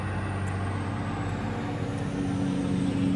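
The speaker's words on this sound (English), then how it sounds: "Let the triple axle dump truck go by." A triple axle dump truck rolls past nearby with a steady heavy engine drone and road rumble, loud and continuous, with a faint brake hiss.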